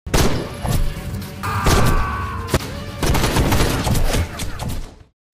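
Dense gunfire from soldiers in a war film, rapid shots and volleys with heavy thuds and cracks crowding one another for about five seconds before cutting off abruptly.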